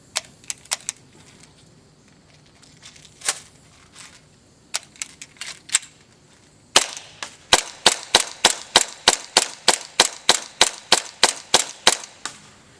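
HPA-powered airsoft pistol firing at a target 60 feet away, a handful of scattered sharp pops followed by a fast, steady string of about fifteen crisp shots, close and loud with no talking.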